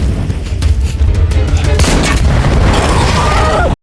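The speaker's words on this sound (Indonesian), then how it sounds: "Juliet kemudian secara strategis menembaknya, menyebabkan tabung bahan bakar meledak." A fuel tank shot and blowing up in a film scene: dense, loud blasts and gunfire-like bursts with a sharp burst near the middle, rumbling continuously before cutting off abruptly.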